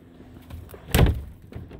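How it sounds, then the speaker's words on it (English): A house door being pushed shut and locked at an old family home, giving one dull thud with a short rattle of the latch and a few light clicks around it. "We'll go ahead and lock this door."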